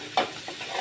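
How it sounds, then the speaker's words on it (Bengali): Chopped onions frying in oil alongside rui fish pieces, a short burst of close sizzling with a stirring scrape near the start and softer crackle after. "পেঁয়াজ কুচি দিয়ে একটু ভাজা ভাজা করবো।"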